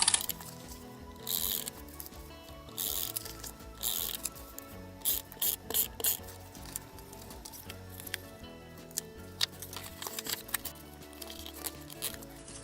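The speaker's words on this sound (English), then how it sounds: "using the Xyron Mega Runner, I'm just going to put some adhesive on" A Xyron Mega Runner adhesive applicator run along paper edges for a craft decoration, giving quiet close mechanical clicking and whirring bursts in short, repeated strokes with pauses between.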